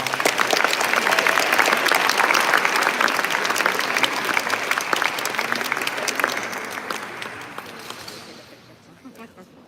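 An audience applauds warmly for Lawrence O'Donnell at the Moynihan Center inauguration, dense steady clapping from a large crowd that gradually thins and fades out near the end.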